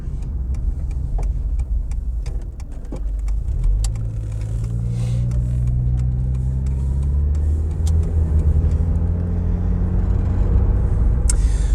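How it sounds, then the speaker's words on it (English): Ford Granada Mk3 Ghia X on the road, engine note rising steadily as it accelerates through the gears, heard from inside the cabin as a continuous close hum with faint ticks and clicks and no talking. "I do enjoy driving this Granada."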